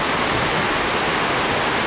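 A river rushes steadily at a river junction on the Izu Peninsula, a loud, dense, continuous roar of flowing water heard close with no other sounds.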